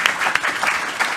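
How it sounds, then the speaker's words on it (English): Audience applause for panelists at a Commonwealth session on multilateralism and soft power: a dense, continuous burst of many hands clapping, loud and close, with no talking over it. "I would simply like you to please join me in a round of applause to our panelists."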